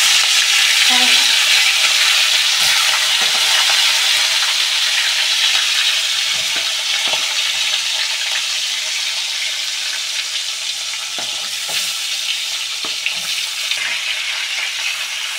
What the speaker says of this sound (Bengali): মাছগুলোকে বেশি ডিপ ফ্রাই করবো না, একটু হালকা ভেজে নেব